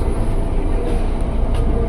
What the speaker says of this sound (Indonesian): Kita berangkat dari jalur 11 stasiun Bogor